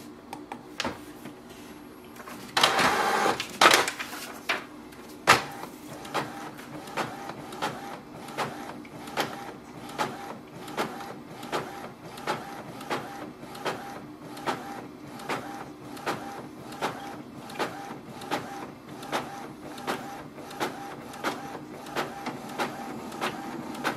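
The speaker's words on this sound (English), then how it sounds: "So our printer has started to print" An Epson ET-2700 inkjet printer runs steadily, with a burst of mechanical whirring early on followed by rapid, regular clicking and shuttling of the print head, close by.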